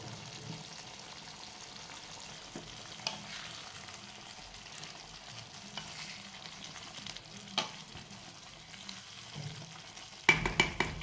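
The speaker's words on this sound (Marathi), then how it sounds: "बघू शकता आता मस्त आपली उकळी फुटत आली आहे ना" A masala brinjal curry with added water comes to a boil in a pan, giving a steady soft bubbling sizzle and then a few sharper clatters of stirring near the end.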